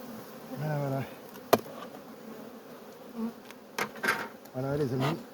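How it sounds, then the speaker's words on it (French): Black honeybees swarming around an apiary hive, their buzzing rising and falling as individual bees fly close past, with a few faint knocks and clicks between passes. "Là il y a beaucoup d'abeilles. C'est de l'abeille noire."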